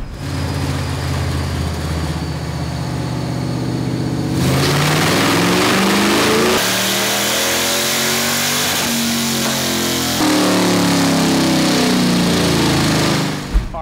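A 7.3L Godzilla V8 swapped into a Fox Body Mustang runs a dyno pull with open headers and no cold air kit, its loud, raw exhaust climbing in pitch through stepped surges and holding a sustained, close roar.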